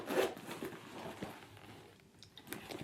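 The zipper on the back compartment of a Gucci Ophidia medium tote bag being pulled, a close rasping run of teeth with a few short bursts and pauses.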